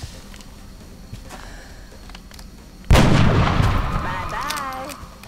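A sniper rifle shot in XCOM Long War lands as one sudden, loud crack after a quiet stretch, followed by a long rumbling decay with faint tonal game effects.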